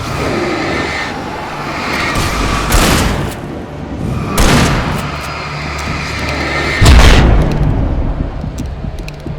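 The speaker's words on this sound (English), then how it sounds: "I didn't even mean to use the flashbang." A flashbang detonates in Alan Wake Remastered, heard among several loud booming bursts spaced a couple of seconds apart, with the final blast the heaviest, over a rumbling game background and no speech.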